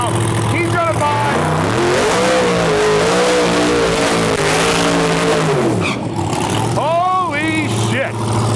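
Drag race car at a Western Canada no prep shootout revving hard and loud nearby, a sustained roaring engine with rising and falling pitch, ending in sharp throttle blips, with people talking underneath.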